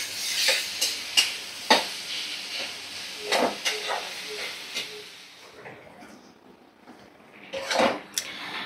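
Soybean and potato curry with a pinch of garam masala sautés in a pan, heard as a close steady hiss broken by several sharp stirring scrapes and clinks of a spatula against the pan.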